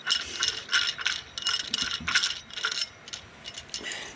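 A ratcheting tool clicks in quick repeated bursts while unscrewing a part during an oil filter change on a Jaguar MKII, close and crisp with short pauses between runs.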